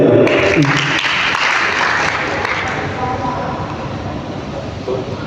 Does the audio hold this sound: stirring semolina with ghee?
no